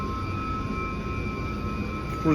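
Oil pumps for a boiler system running in a mechanical room: a continuous steady mechanical drone with a constant tonal whine and broadband rumble, unchanging throughout, with a faint voice briefly at the very end.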